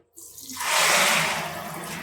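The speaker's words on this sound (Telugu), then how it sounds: "మనకి రైస్కి సరిపడా వాటర్ వేసుకుని కలుపుకోవాలి" Water is poured into a cooking pot for rice for paneer biryani, a short rushing splash that starts abruptly, swells loud and close, then eases slightly.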